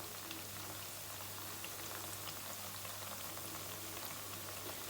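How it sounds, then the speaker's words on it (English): Hot oil heating in a pan on a stovetop before frying plantains, a faint continuous crackling and fizzing sizzle with a low steady hum beneath, even and unbroken. "As you can see, the oil is heated up now."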